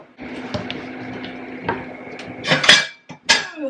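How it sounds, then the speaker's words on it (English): A Dutch oven pot and lid clank and scrape on a home stovetop during cooking, a few sharp metallic knocks building into louder clattering bursts near the end, heard up close with no talk. "I'm going to put it in my Dutch oven and cook it."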